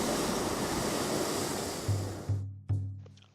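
Ocean surf rushes under a lava shelf at the Spouting Horn blowhole on Kauai, a steady, fairly soft roar of churning water that cuts off abruptly, followed by a few short low humming pulses.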